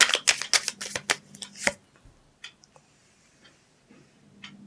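Tarot cards being shuffled, a quick burst of crisp riffling flicks close by, then a few soft scattered taps and slides as cards are drawn and laid down in near quiet.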